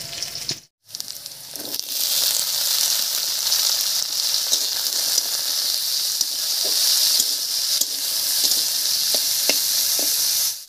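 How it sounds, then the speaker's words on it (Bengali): Loud, continuous hissing sizzle of potatoes and carrots frying in oil with onion and chili, broken by a brief dropout near the start, with scattered spatters and pops throughout and no speech. "পেঁয়াজ আর লঙ্কা দুটোই হালকা ভাজা হয়ে গেছে, এবার এর মধ্যে দেবো কেটে রাখা আলু আর গাজর।"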